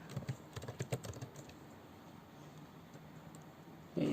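Rapid keystrokes rattle on a computer keyboard as code is entered, a clustered run of close clicks that thins out into quiet room tone.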